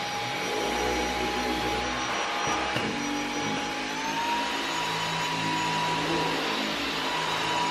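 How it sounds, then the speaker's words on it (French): Vacuum cleaner running steadily with a whining motor tone that shifts as it passes from a hard floor onto a carpet, its suction rising, with a brief bump partway through. "vous allez passer d'un sol dur à un tapis, il va automatiquement augmenter son aspiration pour être beaucoup plus efficace"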